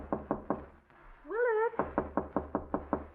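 In a radio drama, a knuckle raps on a bedroom door in quick bursts of three, pauses while a voice calls out, then knocks again in a longer series, close and clear against a quiet room.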